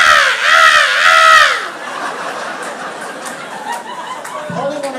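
A voice lets out harsh, wavering squawks imitating angry seagull cries, then trails into quieter background murmur.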